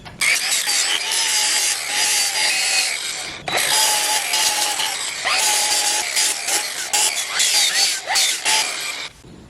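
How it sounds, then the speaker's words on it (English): A flap wheel on a power tool grinds and sands down the old, cracked dashboard of an AE86, a loud, continuous whirring abrasion with brief pauses and pressure changes as the wheel works the surface. "I'm gonna go first and knock down some of the highest spots with the flap wheel here"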